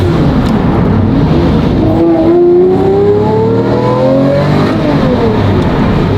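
A loud Porsche Carrera GT engine revs up and down in rising and falling sweeps on a first-gear downshift, with a steady rumbling drone underneath and no voices.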